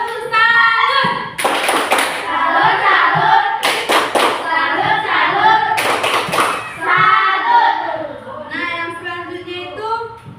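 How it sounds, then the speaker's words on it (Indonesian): Elementary school children clap their hands in a classroom during a lesson, three loud bursts of clapping broken up by a teacher and children talking between them. "Tepuk tangan dulu. Tepuk tangan."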